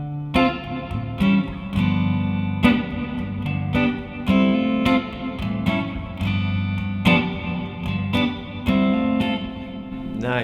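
Electric guitar played through a Tech 21 Fly Rig 5 V2 pedal with settings maxed out, giving a thick distorted tone with effects and reverb; steady rhythmic strummed chords with sharp attacks, loud and continuous with no talking.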